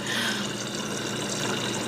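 Water sloshing and gulping as a girl drinks to stop her hiccups, a steady close liquid sound with no talk.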